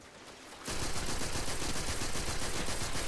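Rapid, steady gunfire from a hand cannon in the Destiny video game, loud and close, a dense volley that bursts in after a quiet half-second lead-in and keeps going without a break.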